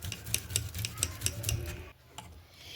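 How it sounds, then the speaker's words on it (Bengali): A potato being grated with a hand grater: quick, regular scraping strokes in a steady rhythm that stop partway through, leaving quieter kitchen sounds, with no talk. "তো গ্রেটারটাকে আমি দিয়ে এই আলুটাকে একটু গ্রেট করে নিচ্ছি।"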